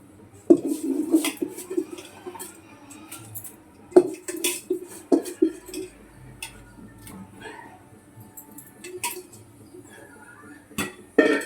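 A spoon clinks and scrapes against a pot while chicken curry is stirred, giving irregular metallic taps and clatters at close range.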